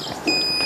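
A meat thermometer in a pepper steak reaches 54 degrees core temperature and starts a thin, steady electronic beep partway through, clear over quiet background noise.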